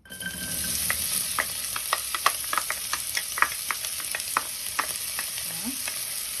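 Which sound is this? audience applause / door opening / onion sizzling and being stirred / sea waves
onion sizzling and being stirred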